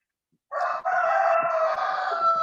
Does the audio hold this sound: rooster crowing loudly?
yes